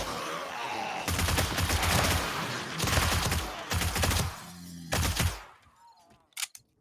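Guns fired in a zombie survival video game: several loud, close bursts of rapid gunfire come in separate volleys, then stop abruptly, leaving a few faint clicks.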